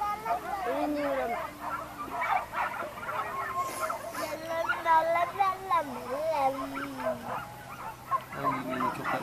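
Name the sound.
hunting dogs chasing wild boar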